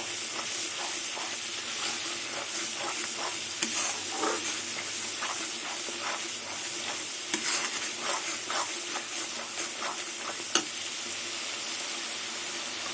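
Spice paste frying in oil with melon seeds and poppy seed paste for a silver carp curry, a continuous close sizzle with repeated stirring scrapes and a few sharp spoon clicks against the pan, steady and alone.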